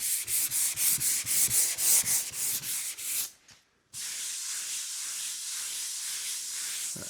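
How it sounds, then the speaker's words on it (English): A hand rubs and grips a textured surface up close in quick rhythmic scraping strokes, goes briefly quiet, then gives a steady rasping hiss. "It's just the sound of my hand gripping the texture on it."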